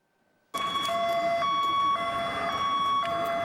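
A loud emergency vehicle siren suddenly starts and wails continuously with cycling electronic tones, close and piercing, during a training exercise at a shopping centre in Cherkasy.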